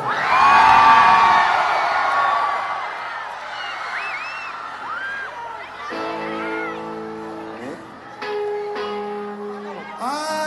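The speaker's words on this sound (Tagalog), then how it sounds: "Sa mga pinakamalakas sumigaw!" A large concert crowd at a rock show in Malolos cheers, whoops and shouts loudly, strongest at the start and then easing. Sustained musical tones follow in the second half.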